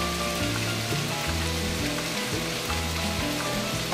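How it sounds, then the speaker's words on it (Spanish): Shredded beef frying with onion, tomato and green chile gives a steady, dense sizzle that crackles evenly without a break. "vamos a sofreír la cebolla, el tomate y el chile verde"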